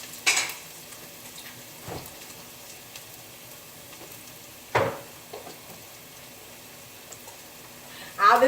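Onion, minced garlic and meat cook in a pan beside a faint soft sizzle, punctuated by a few sharp clanks of utensil on pan spaced several seconds apart.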